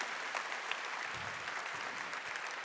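Congregation applauding during a Catholic Mass homily, steady dense clapping throughout at moderate level, with faint voices mixed in.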